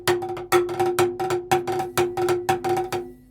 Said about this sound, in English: So I'll place normal and then I'll squeeze the stick here.